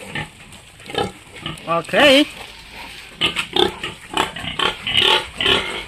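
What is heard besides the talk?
fattener pigs grunting while being fed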